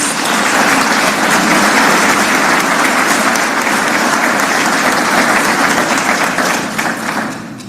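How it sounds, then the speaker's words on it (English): A large crowd at a memorial service in Atlanta bursts into sustained, loud applause that stays dense and steady before easing off at the end. "Can we give him a round of applause?"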